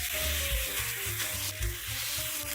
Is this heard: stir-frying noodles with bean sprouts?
yes